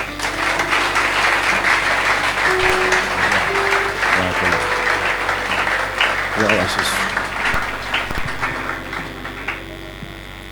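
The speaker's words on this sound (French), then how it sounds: "Sur votre applaudissement." Applause from a church congregation at the public consecration of an apostle, a steady wash of clapping that runs throughout, mixed with a voice and a low electrical hum, tapering slightly toward the end.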